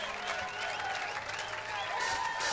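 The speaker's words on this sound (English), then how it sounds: "Round of applause, everybody, for our stage crew." A festival crowd at Pinkpop 2024 applauds the stage crew, a continuous roar of clapping and cheering mixed with lingering tonal sound from the stage, fairly steady throughout.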